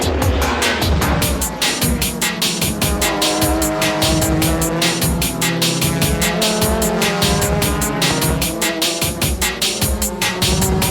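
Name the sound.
JGTC race cars racing and braking on track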